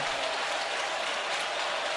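A church congregation claps their hands together during live Telugu worship, a dense, steady wash of applause that carries on evenly throughout with no voices above it.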